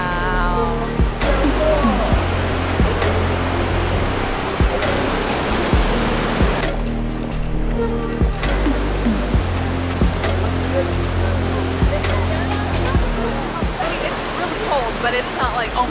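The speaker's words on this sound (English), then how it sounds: "So I can hear the waterfalls already." Waterfalls near Mostar, Bosnia, swollen by recent rain, roar as a steady broadband rush that runs the whole time, fairly close, with brief clatters and movement on top.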